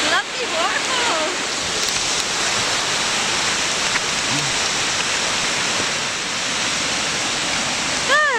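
A waterfall pours steadily on a walk near Hartsop and Glenridding, a loud, continuous broadband rush with no letup, while a person speaks briefly over it near the start and again at the very end.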